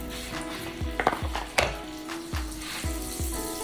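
Bacon grease and a little butter sizzle in a pan, a steady frying hiss punctuated by repeated low thumps and clinks as a utensil knocks against the cookware.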